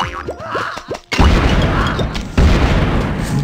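A loud booming explosion blasts walnuts in the video game Plants vs. Zombies, a heavy crash following cartoonish sliding tones, with a second blast about a second later and continued game sound effects.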